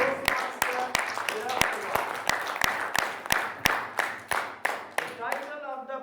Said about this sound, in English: Give a big round of applause for our Toastmaster.